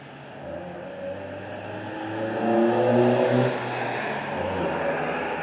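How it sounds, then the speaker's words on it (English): A pickup truck pulls away from a construction site at night, its engine swelling as it accelerates, then settling into a steady drone as it moves off. "I guess it's a pickup truck."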